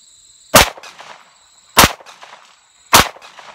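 Three sharp, loud pistol shots from a Browning FN Hi Power at an outdoor range, evenly spaced about a second apart, each followed by a short echoing tail.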